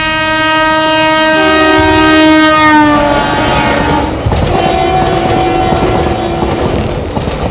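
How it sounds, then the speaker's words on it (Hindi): A freight train on a broad-gauge railway line in Maharashtra, India, passes loudly close by, its long horn blaring for several seconds before fading into the steady rumble and clatter of wagons rolling past. "ये हमारी मालगाड़ी की रेल है साहब"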